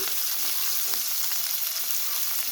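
Cabbage dropped into hot oil, the oil already used for frying, sizzles with a steady, close, loud crackle throughout, with light stirring and no talk.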